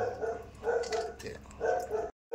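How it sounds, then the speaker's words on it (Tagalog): A dog barks and yips in short bursts at a few-second rhythm, moderately close, in a home kitchen, with no talk over it. "Kumakahol si Tikboy."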